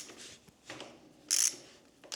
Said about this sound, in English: I'm gonna start from removing the existing guard, that's T30.